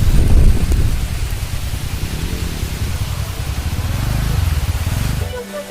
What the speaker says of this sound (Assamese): এতিয়া বৰষুণ পুৰা ষ্টাৰ্ট হৈ গ'ল